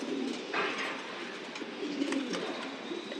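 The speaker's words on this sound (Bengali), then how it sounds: "এখানে সবগুলো হচ্ছে নর কবুতর" Racing pigeons, male birds, in a loft give soft, low cooing that goes on steadily throughout, faint and somewhat distant against a light background hum.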